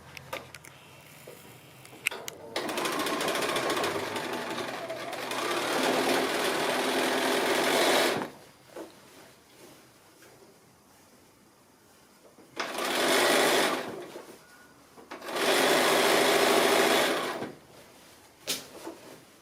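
A sewing machine top stitches around the casing edge of a large drawstring bag in three long bursts, the first about six seconds, with quiet pauses of handling between them.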